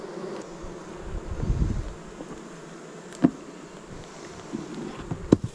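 Honeybees buzz around a new hive during a comb inspection, a soft steady drone close by with a few brief louder passes and bumps, and no talking.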